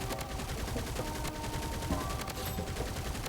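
Rapid gunfire sprays from a weapon in the shooter game Bloodstrike, a dense continuous burst of shots running the whole time at steady loudness with no voices.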